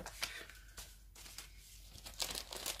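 Papers are slid back into an envelope with soft, close crinkling and rustling in a few short bursts, fairly quiet and without any talking.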